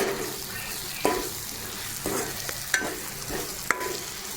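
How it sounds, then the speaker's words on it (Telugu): Spoon stirring salt into a dry fish curry in a pan, a steady soft scraping and light sizzle with a few sharper clinks of the utensil against the vessel, close and moderately quiet. "ఉప్పు వేసుకొని కలుపుకోవాలి"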